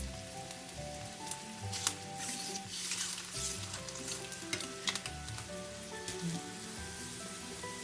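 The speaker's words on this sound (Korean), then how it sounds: "중간중간 계란 후라이도 뒤집는 거 잊지 마시고요" Fried eggs sizzling in a pan alongside stir-frying meat: a steady, crackling hiss with small pops and occasional utensil clinks, moderately close and continuous, with no talking.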